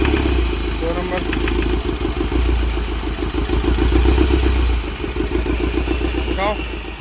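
A Mahindra Scorpio mHawk diesel engine idles close by with a knocking fault, giving a steady rhythmic tk-tk clatter over a low rumble while voices talk nearby.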